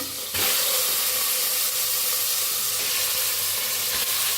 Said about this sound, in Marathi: त्याच्यात चिकन सोडूया